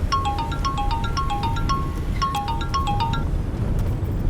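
A mobile phone ringtone sounds in a car while driving: a bright, repeating melodic beeping pattern over a low engine rumble, stopping about a second before the end.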